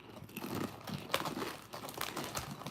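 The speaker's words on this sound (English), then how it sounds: "Y'all hear that crunch? That's these chips." Someone crunches on chips up close, a run of crisp crackling bites and crinkly rustles in irregular bursts with short pauses between.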